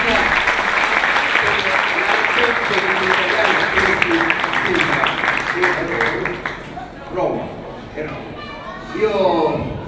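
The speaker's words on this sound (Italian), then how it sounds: "Vorrei un applauso da parte vostra." Audience applause from a crowd after a singer's request at a live concert, sustained clapping for about six seconds before fading into scattered claps and a voice.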